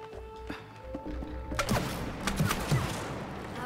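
Goo being detonated in the co-op video game It Takes Two, setting off a burst of booming blasts and crackling bangs mid-clip that fade into continuing rumble and scattered thuds.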